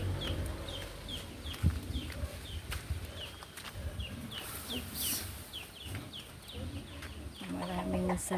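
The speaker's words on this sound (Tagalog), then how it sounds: "tingnan yung mga pato namin, manok." Chickens cluck softly in a repeated, uneven rhythm over quiet backyard background noise, with a few faint clatters.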